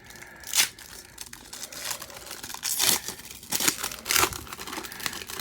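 Foil wrappers of 1994 Bowman baseball card packs crinkle and tear open in several quick bursts, close and fairly quiet, with brief pauses between rips.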